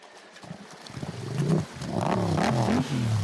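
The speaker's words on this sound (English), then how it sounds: "The engine's just going. It's running." A motorcycle engine drones and rises in pitch, revving up and settling into a steady, loud roar after a quieter start, after being submerged in water.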